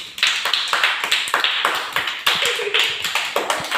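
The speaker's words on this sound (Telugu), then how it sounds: "క్లాప్స్ కొట్టండి." Children clap their hands together in a steady, even rhythm of about three claps a second, close and bright, with a few voices faintly behind.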